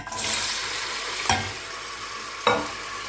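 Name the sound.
vegetables frying in a pan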